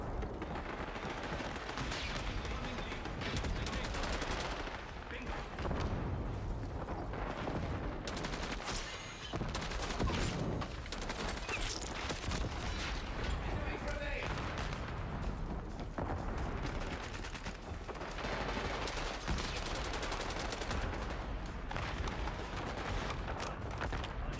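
Rapid, continuous AK rifle fire in the video game Warzone, loud bursts packed tightly together with booming game effects filling the whole stretch, almost no pauses.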